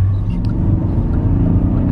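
A BMW M5 engine drones at a steady low pitch while the car is driven, a deep even rumble from inside the cabin with no revving.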